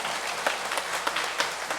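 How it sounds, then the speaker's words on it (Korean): Church congregation at an ordination service claps briefly, a soft even patter of many hands with a few sharper claps standing out. "박수 한번 쳐봐요."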